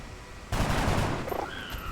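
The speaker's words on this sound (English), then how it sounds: "And our shot connects." A single loud gunshot bursts out and rings on for over a second with a noisy, rumbling tail in the video game XCOM Enemy Within, as a squad soldier's shot connects.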